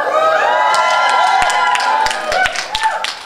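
A lively theatre audience at a Swedish student musical cheers, whoops and claps loudly and steadily throughout, with scattered sharp claps and shouts rising above the crowd roar.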